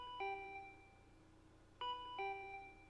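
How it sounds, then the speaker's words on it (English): Two-tone electronic doorbell chime from the video game Danganronpa V3, ringing clearly twice with a short pause between, bright and close over a quiet background hum. "My body reacted reflexively as I heard the doorbell."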